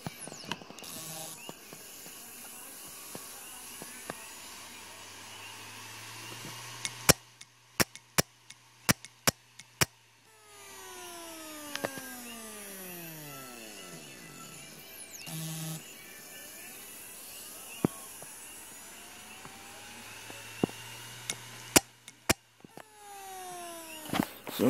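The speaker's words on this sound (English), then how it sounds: "we're gonna put you guys directly on the drive, and you can hear it spin up." A dead computer hard drive, recorded directly on the drive, whirs up with a rising pitch, then winds down, then spins up again, punctuated by sharp mechanical clicks and ticks throughout.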